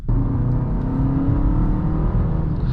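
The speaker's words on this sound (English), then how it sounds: "I think naturally this engine has a really nice sound to it as well." The engine of a 2025 MINI Countryman John Cooper Works drones steadily and fairly loud as it accelerates, a smooth, sustained tone without rasp and with no talk over it.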